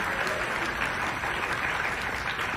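An audience at a show aboard the Royal Caribbean cruise ship Quantum of the Seas applauds in a dense, steady, loud wash of clapping that lasts throughout.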